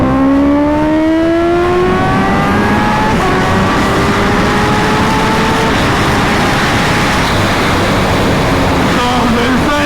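A 300-horsepower Kawasaki Ninja H2R motorcycle engine screams loudly and continuously, climbing in pitch through repeated gear changes under heavy wind roar, close and intense throughout.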